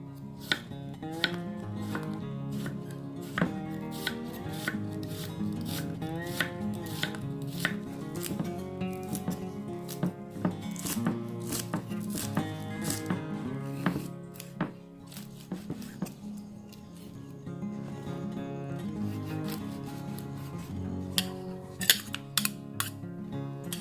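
Steady, rapid chopping of pork with a knife against a cutting board for larb, crisp repeated strikes close by, continuing without talk.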